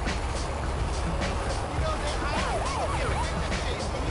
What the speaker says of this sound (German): Ich hab grad schon wieder Sirene gehört.